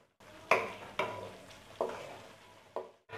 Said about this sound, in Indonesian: tumis lagi sampai airnya yang di tomat sama yang tadi air